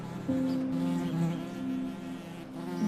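A bee buzzes close and steady, a continuous droning hum that wavers slightly in pitch and rises at the very end.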